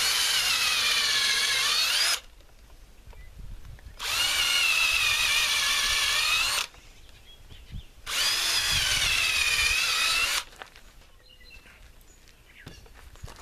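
Power drill boring staggered holes about 1.5 inches deep into a freshly cut log for shiitake mushroom dowels, three loud sustained whirring bursts separated by short quiet pauses, close up.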